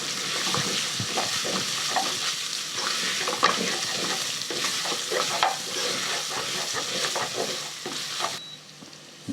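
Pilau rice with tomato paste stirred in a pot, a dense steady sizzle overlaid with continuous scraping and shuffling of the spoon, close and loud until it eases off near the end.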